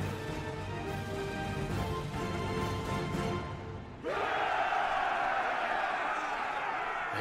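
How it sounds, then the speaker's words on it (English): Qin soldiers in an anime battle cheer as a massed roar: muffled crowd noise first, then a sudden swell into a loud, sustained shout from many voices. "That is the sound of Qin soldiers cheering."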